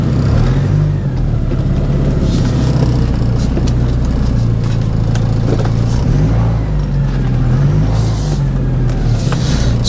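A Porsche 944 Turbo engine drones steadily and loudly from inside the car as it drives, a continuous low rumble with slight shifts in pitch and no pauses.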